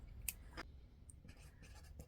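Thin felt tip pen writing on paper, faint scratchy strokes and light taps in quick irregular bursts, close and quiet.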